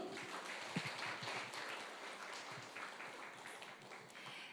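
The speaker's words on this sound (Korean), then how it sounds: "김용두 회장님의 열정적인 강의에 다시 한 번 더 박수 부탁드립니다" Audience applause following a passionate lecture by SNS reporters' association chairman Kim Yong-du at an art industry business briefing, a steady wash of clapping from a crowd lasting throughout at moderate, even level.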